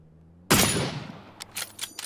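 A single sharp, loud gunshot in the battle royale game PUBG, with a decaying tail, followed by several quicker, fainter cracks in close succession.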